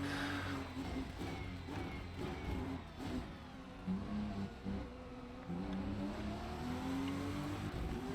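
A Porsche race car accelerates out of a hairpin at Hockenheim in a racing game, its engine note rising through gears with steady, fairly quiet droning and shifts, no talk over it.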